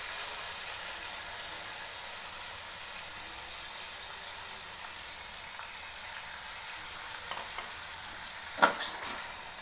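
Yogurt is stirred into green chicken karahi frying in a pan, a steady soft hiss and sizzle with faint scraping and one sharp clink near the end, close but quiet.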